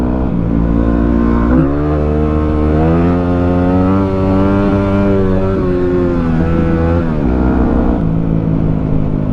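Yamaha WR250R dual-sport motorcycle engine droning steadily while riding, pitch rising and falling with throttle and shifts, loud and close throughout.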